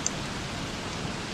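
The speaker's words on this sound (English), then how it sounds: "Yes, it's raining." Steady rain in the video game Don't Starve: a continuous, even hiss of falling drops, moderately loud and unbroken, with no talk over it.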